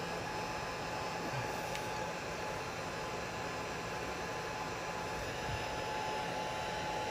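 A heat gun blows on a soldered copper pipe fitting to soften the solder, giving a steady, unbroken airy roar with a faint tonal hum throughout and no speech.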